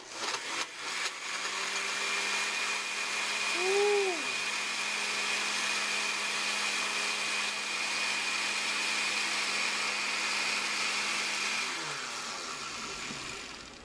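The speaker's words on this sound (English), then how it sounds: "We're going to blend it up and watch what happens." A countertop blender whirs steadily, blending coffee with raw butter and coconut milk, with a loud, even motor drone that runs for most of the stretch before winding down near the end.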